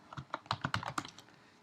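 Keys on a computer keyboard are tapped out to enter a Linux command, a quick run of about a dozen close, crisp clicks over just over a second, fairly quiet and alone.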